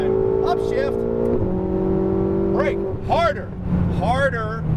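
A Ferrari 488 GTB's engine drones steadily at high revs on a race track, its pitch stepping down at an upshift, while a driving instructor talks over it almost throughout.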